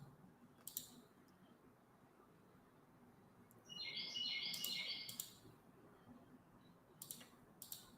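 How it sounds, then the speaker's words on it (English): A small bird chirps faintly in the background, with a brief burst of rapid high chirps midway, while soft indoor clicks sound now and then in a quiet room. "I can't believe you guys hear that bird."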